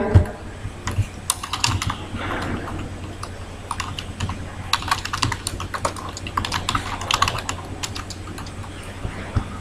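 Typing on a computer keyboard to fill in a web form: close, irregular clicking keystrokes in quick bursts with brief pauses, over a faint steady hum.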